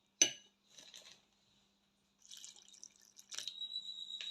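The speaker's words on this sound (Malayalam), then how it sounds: "നമുക്ക് വെള്ളം ഒഴിച്ചു കൊടുക്കാം കേട്ടോ." Water poured little by little into potato bajji batter makes a quiet trickle and a few faint splashes and drips, separated by silent gaps, with a light clink of a utensil.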